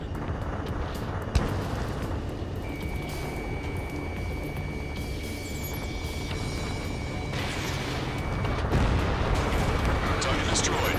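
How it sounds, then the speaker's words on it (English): Gunfire and roaring jet engines in the air-combat video game Ace Combat 7, a steady, dense rumble with a sharp crack near the start and a swelling roar toward the end, under faint voices. "gunfire and a roar of jets echoing through the streets"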